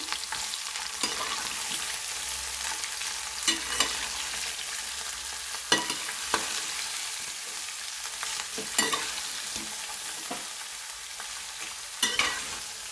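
Ivy gourd pieces stirred in hot oil in a pan for a coconut ivy gourd fry: a steady sizzle runs throughout, with repeated scraping and knocking of a spatula at uneven intervals, close up, with no talking.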